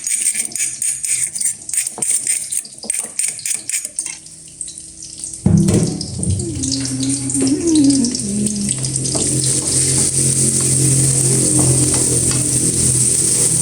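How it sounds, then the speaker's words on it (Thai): Water used to rinse a mortar pours into a spicy stir-fried frog dish, a splashing gush midway that turns into a loud, steady bubbling sizzle in the pan, after a stretch of quieter scraping and cooking noise. "แล้วเราจะใส่น้ำล้างครกลงไปนะคะ"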